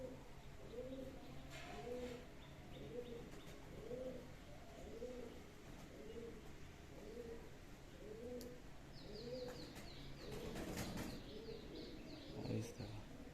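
Pigeons, including a Chatiyal-line hen, coo in a loft. A rhythmic series of soft, repeated coos runs close by, with chirps and a brief flutter of wings near the end.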